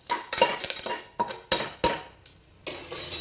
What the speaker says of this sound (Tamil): பெருங்காயத்தூள் சேர்த்துட்டு நல்லா கலரிட்டு